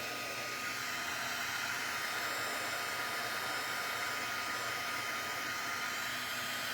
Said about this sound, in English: See how the heat tool moves the ink around?